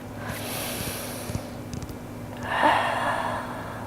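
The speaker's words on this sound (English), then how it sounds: "Take a full breath." A person draws a full, slow breath during a yoga flow, a soft airy inhale swelling near the microphone against a quiet background hum, with a brief gasp-like rush late on.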